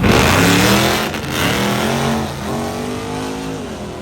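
A 1993 Ford Ranger pickup's engine roars loudly and steadily at a drag strip, revving up through rising pitch as it accelerates hard, with a brief dip midway before climbing again.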